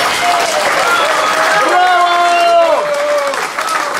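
An audience applauds steadily in a hall, a dense wash of clapping that carries throughout while a voice speaks loudly over it.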